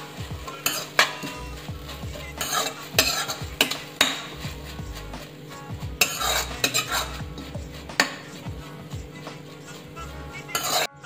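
Coriander leaves fry in a pan as a metal spoon stirs them, making repeated scraping clinks over a soft, steady sizzle, close up with no talk.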